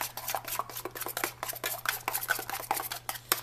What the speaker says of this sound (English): I'm going to stir my chocolate because I've been melting it